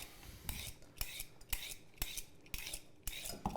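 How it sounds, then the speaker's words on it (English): Carrot peels scraped with a peeler and dropping into a cooking pot, a series of about seven sharp rasping strokes at a steady rhythm, close and alone without talk. "we're just going to peel right into the pot"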